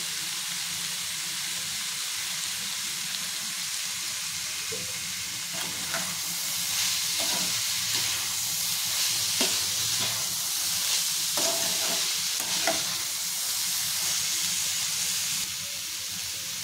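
Paneer bhurji with spices sizzles and fries steadily in a pan as coriander is stirred in, with a constant hiss and intermittent scraping clicks of the spoon against the pan.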